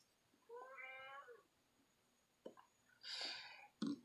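A female cat meows twice, a drawn-out tonal meow then a shorter higher one, close by with a small click between.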